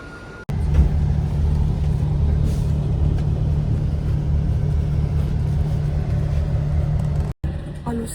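A very old bus on the road to the ferry in Phuket rumbles steadily from the inside, a continuous low engine drone that cuts out briefly near the end.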